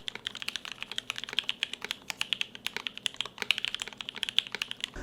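Rapid, steady typing on a Forever65 mechanical keyboard with crisp, clacky keystrokes in a continuous stream, close and fairly loud, no voices.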